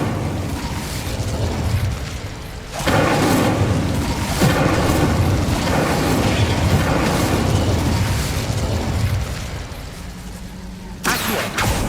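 Incendio fire spell cast in Hogwarts Legacy, a loud booming whoosh of fire that roars steadily for several seconds before fading, then a sharp burst at the end.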